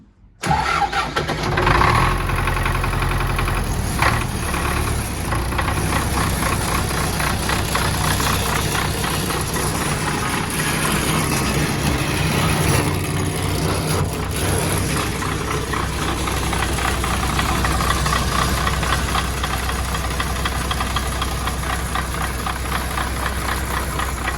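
An MTZ-80 tractor with a leaking radiator cranks and starts at once, then settles into a loud, steady, close diesel idle that runs on unchanged with no talk.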